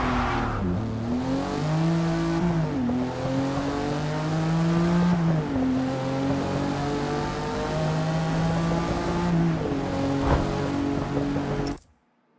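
Road car engine with manual clutch in Forza Motorsport, revving up and dropping through repeated gear shifts with rising and falling pitch, loud and continuous, cutting off abruptly at the end.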